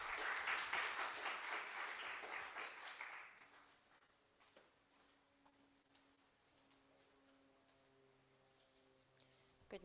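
A workshop audience gives a warm round of applause that swells at the start and fades out after a few seconds, leaving a quiet room with faint murmurs.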